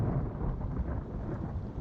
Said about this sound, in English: It started raining while I was mid-flight.